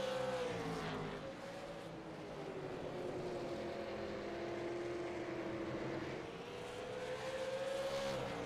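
Race cars lapping a short track at an event, engines droning with rising and falling pitch as they sweep through corners, a continuous distant roar without talk.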